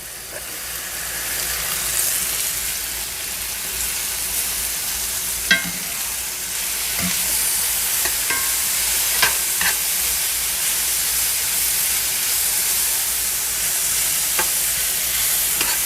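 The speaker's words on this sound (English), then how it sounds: "We're gonna let these saute a little bit." Vegetables sauté in a pan for steak alla pizzaiola, giving a continuous close sizzle with a few sharp clinks and scrapes scattered through it.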